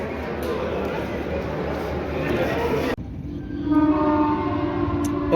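A train rushes past with a heavy rumbling roar, then cuts to a quieter scene where a long train horn sounds, with talking in the background.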